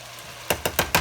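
Four sharp crackling pops of cherry tomatoes charring in a pan, spaced roughly evenly over a low background hiss, close and fairly loud.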